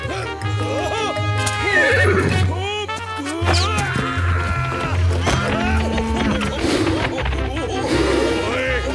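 Loud, repeated cartoon horse whinnies and neighs over a rumbling of galloping hooves, several animals calling close by.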